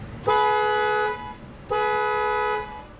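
Two long, steady car horn honks at a gas station pump, each lasting about a second, separated by a short pause; loud and close with no other sounds.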